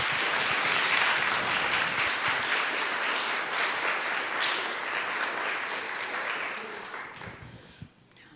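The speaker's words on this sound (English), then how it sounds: "I just want to have one more round of applause for Hayden." A crowd claps loudly and continuously, the dense applause slowly thinning and fading away over several seconds until only a few scattered claps remain.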